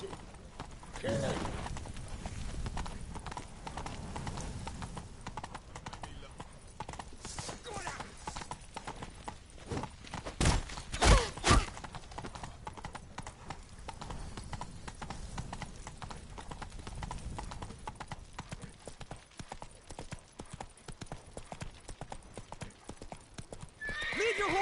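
In The Witcher 3, a horse gallops with rapid, continuous hoofbeats and lets out whinnies, the loudest burst near the middle, while voices shout urgently over the galloping.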